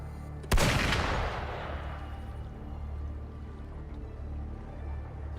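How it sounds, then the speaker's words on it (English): A single sharp gunshot cracks out in the video game Wuthering Waves, followed by a long fading rumble and lingering ambient noise, with no talking. "Gunfire! We've got intruders."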